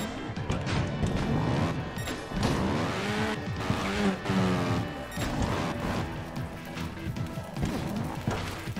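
Motorbike crash in the video game Trials Evolution: a busy, loud stretch of clattering impacts and thuds over continuous engine and game noise, with repeated knocks throughout.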